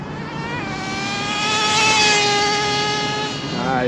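A HPI RS4 nitro RC car engine buzzes with a high, whiny drone that rises and falls in pitch as it zips past, close and fairly loud throughout.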